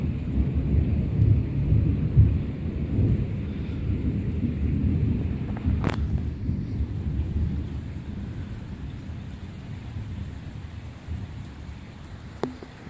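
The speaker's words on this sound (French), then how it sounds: "Oh, le tonnerre énorme." A loud rumble of thunder rolls through steady heavy rain during a developing thunderstorm, with a sharp crack partway through and another near the end.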